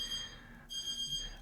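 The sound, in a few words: kitchen clock alarm beeping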